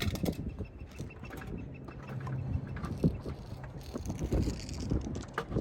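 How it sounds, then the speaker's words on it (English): Wind buffets the microphone in steady low rumbling gusts, with scattered knocks and rustles outdoors; no one speaks. "It's real windy out here. Very, very windy."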